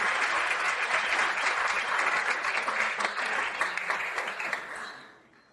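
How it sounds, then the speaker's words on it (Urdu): A school audience applauds in a dense, sustained wave of clapping that holds steady for several seconds, then thins and fades out. "پورا اسکول تالیوں سے گونج اٹھا۔"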